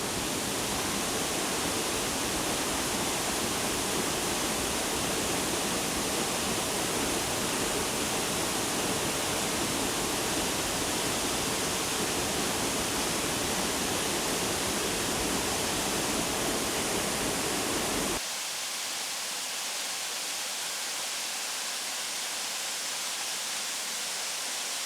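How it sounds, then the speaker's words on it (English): Berry Creek Falls in the Big Basin rainforest roars as a steady, dense rush of falling water, close and continuous, with no voices, then drops to a thinner, quieter hiss near the end. "here we are a little closer to Berry Creek Falls"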